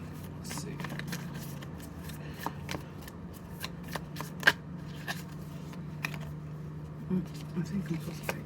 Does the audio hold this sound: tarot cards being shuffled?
yes